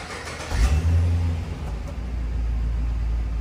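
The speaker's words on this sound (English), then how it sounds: "Nice exhaust note, can definitely tell it's a V8 in here" A 2009 Pontiac G8 GT's V8 engine cranks and catches, rising into a brief deep rev before settling into a steady, rumbling idle, loud and close with no talking.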